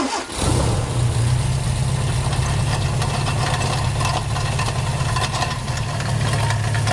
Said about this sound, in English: I'll start the car up so we can both hear and see how bad that water pump is